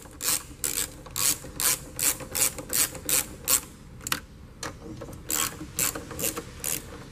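Bolts on Land Rover LR3 towing mirrors being run in snug with a hand ratchet, a close, loud series of rapid rhythmic clicking strokes with a brief pause before the ratcheting resumes.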